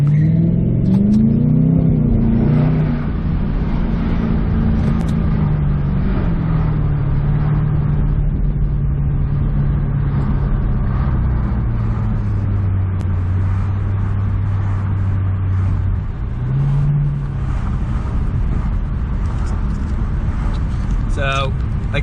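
2006 Ford Mustang, a salvage car, accelerating hard on a wet road, engine note rising and falling through gear changes, loud and close inside the cabin with people talking over it.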